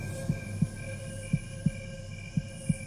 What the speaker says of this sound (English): I was just hearing heartbeats for a second. I'm still hearing them.